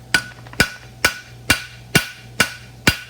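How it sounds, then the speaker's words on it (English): A hammer edge strikes the center of a metal collar while shaping parts for a roadster build: seven sharp, ringing blows at a steady rhythm about half a second apart, close and loud with no talk. "I want to try and hit the center with the edge of my hammer."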